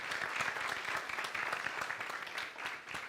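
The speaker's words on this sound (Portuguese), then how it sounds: "Uma salva de palmas" Audience clapping at the Unitel LABS 2025 launch event, a brief, even burst of applause from a seated crowd, moderately distant and continuous with no speech over it.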